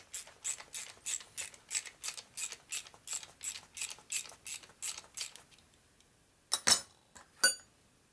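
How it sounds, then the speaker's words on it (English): Ratchet tightening a bolt on a 650cc single-cylinder Harley XL Sportster land-speed race bike at El Mirage lakebed: about sixteen steady, evenly spaced clicking strokes, then a pause and a few louder metallic clinks. "Who needs a ratchet?"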